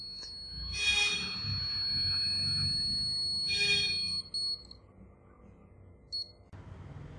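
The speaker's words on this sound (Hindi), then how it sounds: "आईसी की पिन नंबर 3 पर ये बीप आ रही है" A multimeter continuity tester beeps on pin 3 of an IC in a charging circuit, giving a steady high tone that runs for several seconds over background hum and handling noise before cutting off.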